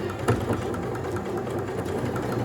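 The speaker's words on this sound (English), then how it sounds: "you're going to want to go over it and then back stitch back over it" A sewing machine back-stitches over a seam on a lined drawstring backpack, giving a steady, close mechanical whir with rapid needle chatter and no talk.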